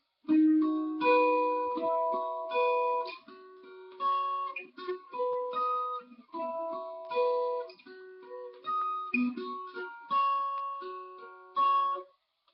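Clean guitar strumming the chord progression of a song, each chord ringing out in a steady sequence of about a dozen sustained strums with short gaps between them, no voices.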